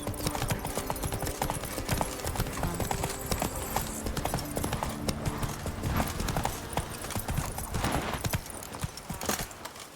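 Hooves of Roach, Geralt's horse, gallop at a steady rhythm in The Witcher 3: Wild Hunt (Blood and Wine, Toussaint), loud and continuous with game music and ambience underneath and a brief whinny.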